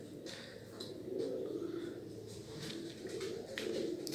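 Pigeons cooing softly in a loft, a few low, throaty coos repeating at a moderate distance over a faint background rumble.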